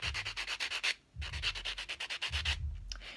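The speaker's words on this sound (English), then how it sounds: "take our buffing block here, and we're going to start to buff the nail so we can get that extra residue off" Fingernail buffed with a buffing block, quick rhythmic scratchy strokes close up in two bursts separated by short pauses, no voices.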